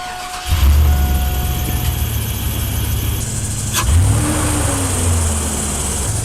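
Chevy 5.3L V8 with a cheap performance cold air intake revving up and settling back, heard from inside the vehicle with the AC and fan running; the rev swell rises near the middle over a steady engine drone.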